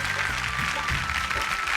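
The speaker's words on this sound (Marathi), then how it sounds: "एकदा जोरदार टाळ्या झाल्या पाहिजे त्यांच्यासाठी." Applause from a studio audience at a televised women's show, a steady dense patter of many hands clapping at an even level, with some voices mixed in.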